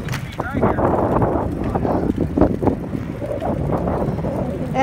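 A Harley-Davidson Sportster rides at cruising speed, heavy wind buffeting the microphone over the engine's low rumble, while a rider talks throughout.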